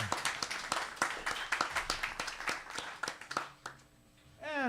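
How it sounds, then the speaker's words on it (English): An audience at a festival interview session applauds for David Kunian with steady, rhythmic clapping that fades out near the end, followed by a brief tonal sweep. "Give him a big hand of applause, David Kunian."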